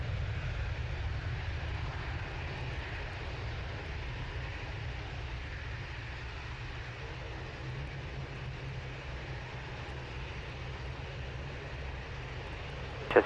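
A Jersey airliner waits to line up on runway 23 left at Manchester Airport, its engines a steady, distant low roar holding evenly throughout with no talk.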